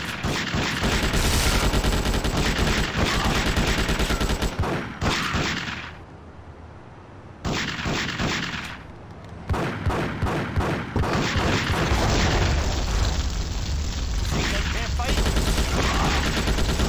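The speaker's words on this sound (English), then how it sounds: "It's a bolt-action rifle." Rapid bolt-action rifle fire in GTA Chinatown Wars, a dense run of loud sharp reports that pauses briefly twice before resuming, with game sounds mixed underneath.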